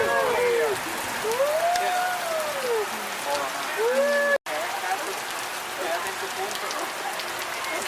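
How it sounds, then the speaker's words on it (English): Steady rain falls at Disney's Animal Kingdom in Florida, a dense continuous hiss of drops on surfaces, with people talking nearby and a brief cut partway through. "It's raining again."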